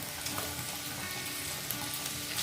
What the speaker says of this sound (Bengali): এবার এগুলো একটু ভালো করে ভেজে নেব।